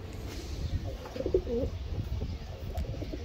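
Low, rolling coos from Iranian high-flyer pigeons, several overlapping calls against a soft murmur of background noise, close by.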